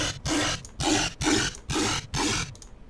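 Heavily distorted riddim synth bass, hard-clipped, in five punchy, evenly spaced bursts, gritty and loud, each note cutting off sharply before the next.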